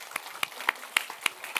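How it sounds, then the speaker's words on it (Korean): A brief burst of sparse clapping from a church congregation during a sermon, a handful of distinct sharp claps in an uneven rhythm over a quiet room. "훌륭한 분들이니까 박수 쳐줍시다."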